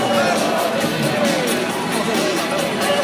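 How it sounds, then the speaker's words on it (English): A crowd cheers and applauds at the Gumball 3000 car rally stop in London as a soft-top Aston Martin DB9 is shown off, a dense, steady wash of claps and voices throughout with faint speech mixed in. "Give a big round of applause, guys."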